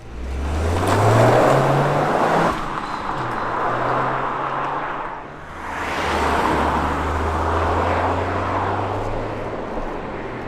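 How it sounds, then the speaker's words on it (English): A Toyota GR Yaris with its stock exhaust runs very quietly, giving only a steady low engine drone with a faint swell as it pulls, and no rasp or burble rising above the road and wind noise. "it makes absolutely no noise from the exhaust whatsoever"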